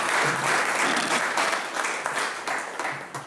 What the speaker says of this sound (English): You get a big round of applause.